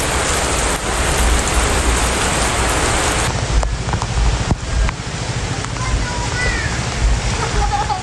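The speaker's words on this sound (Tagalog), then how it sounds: "Malakas po ang ulan" Heavy rain pours steadily, a dense constant hiss with splashing, continuing throughout at close range.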